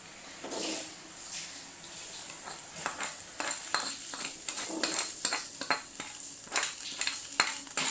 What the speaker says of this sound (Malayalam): അപ്പം ഞാൻ ഈ താളിച്ചത് ഇതിനകത്തേക്ക് ഇട്ട് കൊടുക്കാൻ പോകണേ.